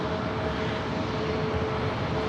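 Airliner engine roar at LAX, a steady broadband rumble with a faint tonal whine holding loud and constant throughout, as a plane passes low overhead.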